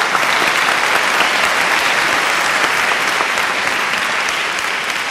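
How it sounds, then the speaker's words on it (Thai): Dense, sustained audience applause in a Thai television talent-show studio, a loud, even wash of many clapping hands with no pauses. "ปรบมือให้ค่ะ"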